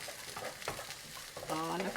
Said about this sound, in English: Just scramble it all up.